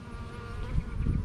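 Honeybees buzz in a dense, continuous drone during a long horizontal Langstroth hive inspection, the swarm close and swelling slightly louder toward the end, with no one speaking.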